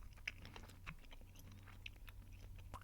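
Gum being chewed close to a microphone, with small wet smacks and crunchy clicks in an irregular rhythm, fairly faint and with no talking.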